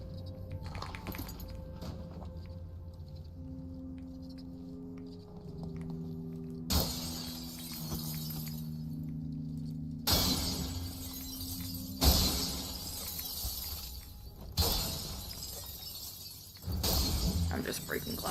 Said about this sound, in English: I'm just breaking glass for the fun of it.